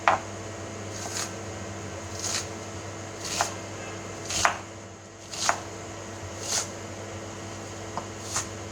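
A knife chops an onion into small pieces on a board, eight or so evenly spaced crisp cuts at about one per second, close and fairly quiet with a steady background hum.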